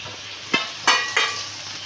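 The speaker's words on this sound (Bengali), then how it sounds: "এবার আমি এখানে এই চিকেন আর ডিমটাও দিয়ে দিচ্ছি।" Chicken and egg go into a hot pan for hakka noodles, giving a steady low sizzle broken by three sharp bursts of louder frying and a clink as each lot lands, all close by.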